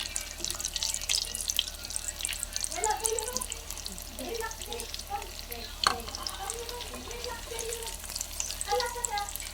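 Food frying in a pan while lunch is cooked at home, a steady crackling sizzle running throughout with clinks and stirring sounds, under casual conversation.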